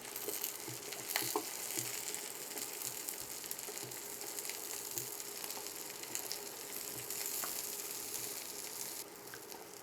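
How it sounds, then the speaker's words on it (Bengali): Garlic and onion frying in a pan for a leafy greens dish, with an even, hissing sizzle, close but fairly quiet, and occasional faint taps of a utensil. "রসুন আর পেঁয়াজটাকে একটু ভেজে নিলাম, খুব বেশি ভেজে লাল লাল করব না"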